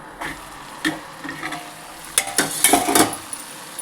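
Tomato egg curry sizzles softly in a pan while a utensil scrapes and stirs it in a few short bursts, with clinks of metal against the cookware.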